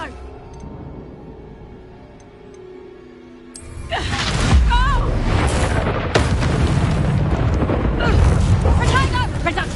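Hogwarts Legacy Confringo blasting spell: a sudden booming explosion bursts out after a quieter battle ambience, followed by rumbling crackles and further impacts under continuous game combat noise.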